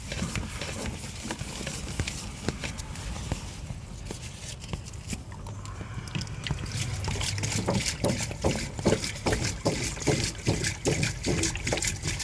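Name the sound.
water flowing through PVC pipe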